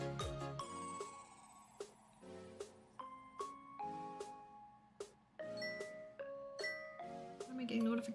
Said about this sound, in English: Why am I getting notifications,